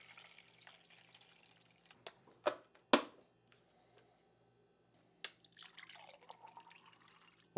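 Water from a kitchen tap runs into a drinking glass, giving quiet pouring and rising filling sounds mixed with sharp clinks and knocks of glassware, all faint and close in a calm room.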